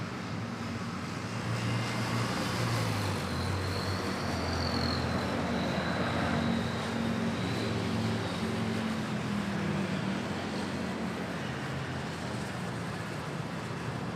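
Cebu Pacific airliner at Manila airport with landing gear down, a steady distant jet engine roar and drone that lingers at even loudness, faint shifting whine, no talk.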